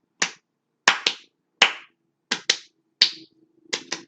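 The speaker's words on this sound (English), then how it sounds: "Now double claps." Sharp, close hand claps ring out in pairs, several quick double claps separated by short pauses, crisp and dry with nothing else behind them, from a wrestling event chant.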